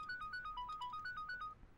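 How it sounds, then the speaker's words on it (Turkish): A mobile phone plays a bright melodic ringtone at moderate volume in a domestic scene, a quick repeating run of beeping notes that stops abruptly after about a second and a half. "cebin çalıyor"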